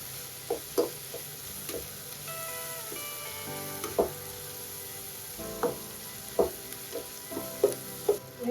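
Fennel seeds sauté in a pan for a Tamil thattu kadai style intestine curry, a low steady sizzle with periodic clinks of a spoon stirring against the pan.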